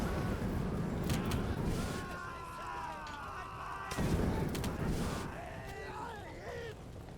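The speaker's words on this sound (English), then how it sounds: "And that's how you use a flamethrower." In the WWII game Gates of Hell, an engineer's flamethrower burns a tank. The result is a continuous, rough whooshing roar with sharp crackling bursts and rising tonal wails layered over it.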